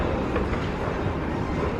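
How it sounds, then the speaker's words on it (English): A tram passes on the Las Vegas Strip in hot July weather, producing a brief, steady, loud rushing rumble with no voices. "we almost made it to the tram"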